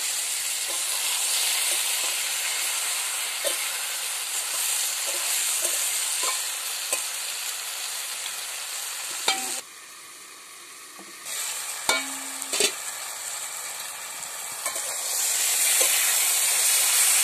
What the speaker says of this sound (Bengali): আমি ভেজে রাখা মাছের মাথাগুলো দিয়ে দিচ্ছি।